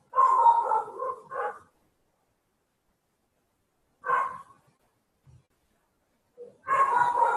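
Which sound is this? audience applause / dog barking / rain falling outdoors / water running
dog barking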